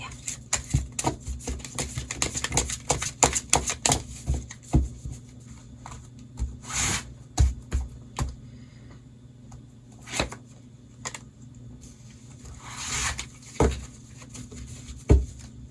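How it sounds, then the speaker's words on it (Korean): Tarot cards are handled and one is drawn and laid out: a busy run of close taps, flicks and slides that thins into scattered single clicks and soft knocks on the table. "좋은 카드 한 장 펴볼게요"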